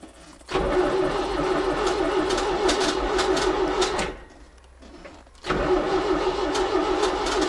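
A ZAZ 968M car engine cranks and fires after standing idle, running loud and close with a steady mid-range roar, cutting out briefly around four seconds before catching again; faint birdsong in the background.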